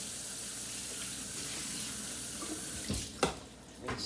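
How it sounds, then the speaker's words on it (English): Tap water runs steadily into a kitchen sink while dishes are rinsed under it, a continuous close wash with a few louder splashes and clinks near the end. "Rinse them off first."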